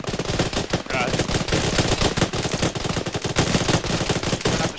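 Dense, continuous automatic gunfire from a military shooter video game rattles loudly and without pause, with faint voices occasionally under the shots.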